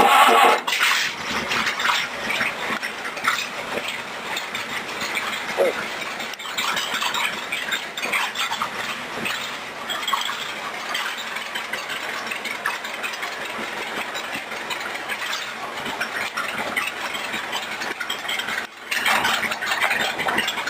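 A rat rod roadster engine idles steadily and loud nearby after being cranked, with a continuous rough mechanical drone and a brief dip near the end.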